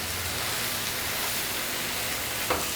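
Bread for veg malai toast is pressed down and cooks on a hot tawa, giving a dense, even sizzling hiss throughout with a brief scrape near the end.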